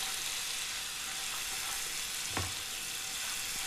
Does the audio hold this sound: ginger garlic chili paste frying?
yes